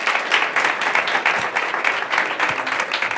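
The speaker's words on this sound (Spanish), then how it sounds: "Un aplauso para él, por favor." A conference audience applauds steadily, a dense wash of clapping from many hands, fairly loud and continuous throughout.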